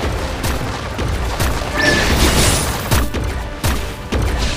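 A turret being destroyed in the mobile battle game Jump Assemble, with loud dense booms, crashes and explosive bursts layered over continuous game action, several heavy impacts hitting throughout.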